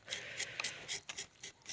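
A sharp knife draws repeatedly through a lump of rubber, giving quiet scraping rasps in quick irregular strokes, close and faint.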